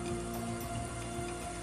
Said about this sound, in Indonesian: Hujan deras yang disertai angin kencang yang melanda Kabupaten Bekasi, Jawa Barat